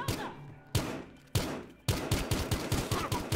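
Gunfire in Battlefield Hardline: a few spaced heavy shots, then a rapid, evenly paced burst of loud, close shots, with no talk over them.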